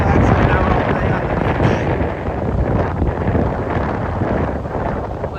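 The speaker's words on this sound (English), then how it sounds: "I don't think I've ever been here when it's been this windy" Strong wind from Hurricane Helene at Cedar Point beach, a loud, continuous roaring gust battering the microphone with rumbling low buffeting throughout, with surf likely blended underneath.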